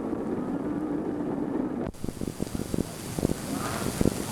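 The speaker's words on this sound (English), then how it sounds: "And it was a windy day." Wind gusting at Lake Wallenpaupack in the Poconos on a blustery winter day, a loud rushing roar against the microphone that cuts off abruptly, followed by softer bumps and handling noise.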